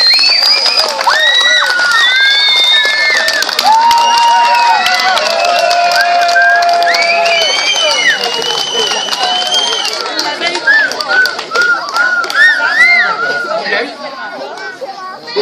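Lively applause and cheering from an audience at a Czech village contest event, with children shouting and crowd chatter mixed in, loud and sustained before gradually thinning out toward the end.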